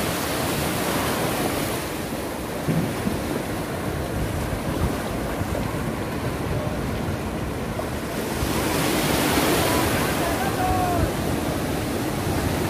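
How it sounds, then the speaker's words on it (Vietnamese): Ocean waves and surf roll steadily at a youth sailing and SUP race on the open sea, a loud continuous wash with wind, swelling again toward the end. "Ô, sóng quá."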